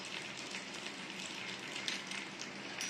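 Hot oil bubbles and sizzles steadily in a tiny miniature cooking pan while preparing a cauliflower curry, a continuous close, fine crackling hiss with no talking.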